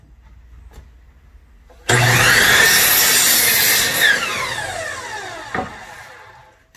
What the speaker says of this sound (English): I'm going to go over to my chop saw and cut three of them out